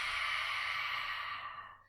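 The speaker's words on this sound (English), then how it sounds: "exhale with that Ujjayi breathing." A single long Ujjayi exhale during a yoga breathing exercise, a close, soft, hissing breath through a constricted throat that fades out at the end.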